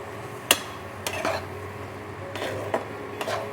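Garlic shrimp with soft tomatoes stirred in a pan, a few scattered metallic scrapes and knocks of a utensil against the cookware, close and moderately loud, no talking.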